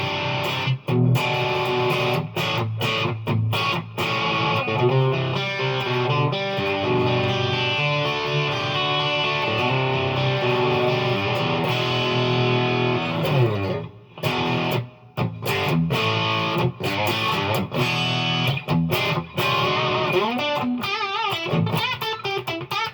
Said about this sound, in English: let's put a little bit of gain on here,